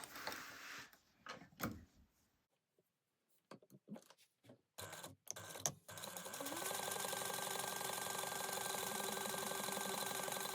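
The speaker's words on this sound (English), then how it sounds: "we're going to sew those down at a 3/8 inch seam allowance" Sewing machine stitching side pieces onto a slip pocket at a 3/8 inch seam, starting after a few soft handling clicks and then running as a steady, close whirring hum.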